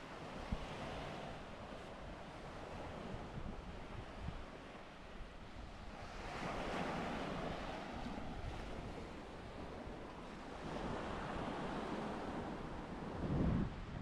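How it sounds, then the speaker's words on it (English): Waves wash onto a very small beach in Side, Türkiye, on a chilly, cloudy day, a continuous surf rush swelling and fading, with gusts of wind buffeting the microphone and no talking. "Here there is a very small beach with 5 sunbeds"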